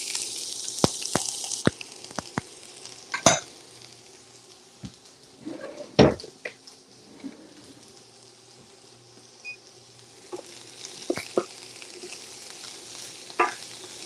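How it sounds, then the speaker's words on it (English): Onions sizzle steadily in a hot pan, a quiet, continuous frying hiss broken by sharp clicks and clatters of stirring utensils against the pan. "Drop the onions in here."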